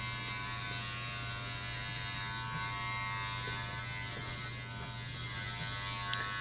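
In a barbershop, a steady close electric buzz from a cordless hair clipper drones continuously without pause, with a faint click near the end.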